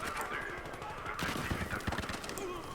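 Gunfire from Battlefield Hardline multiplayer with an AWM sniper rifle: several sharp shots and rattling bursts pile up in a busy in-game firefight, moderately loud and dense, with faint background chatter.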